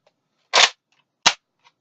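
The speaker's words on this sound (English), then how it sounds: "the pump grip slide, which" Two sharp plastic clacks from the pump grip slide of a Nerf Accutrooper blaster being racked, close and loud, separated by a short pause with faint small rattles around them.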